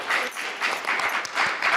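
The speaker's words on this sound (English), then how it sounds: "Can we give a round of applause to our panelists?" An audience at a panel session claps steadily for a couple of seconds, a moderate, fairly distant wash of applause with no talking.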